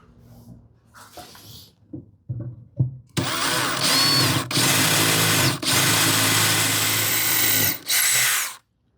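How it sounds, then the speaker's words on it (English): An impact driver drives screws into a wooden cupboard in a hand-tool woodworking build. A few light knocks come first, then loud close whirring bursts of several seconds each with brief pauses between them. "I don't like using my impact driver on these kind of projects"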